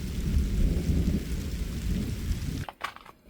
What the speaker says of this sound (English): We've had a thunderstorm over there, a thunderstorm over there.